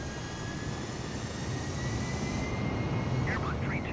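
Airplane engine in Microsoft Flight Simulator, a steady droning hum with a faint high whine, continuous and moderately loud, with a voice speaking quietly over it near the end.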